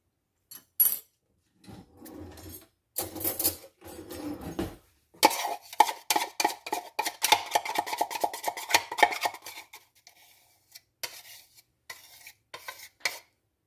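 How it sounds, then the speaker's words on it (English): A spoon scrapes and spreads icing across a lemon blueberry bread pudding cake, a run of quick close scratchy strokes and taps, with pauses and a few louder clinks. "And just spread your icing around."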